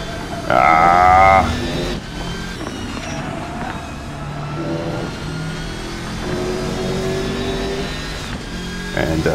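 A race car from a RaceSim Studio mod in a racing sim game revs hard, a loud sustained engine note rising and falling through gear changes, with a brief high whine early on.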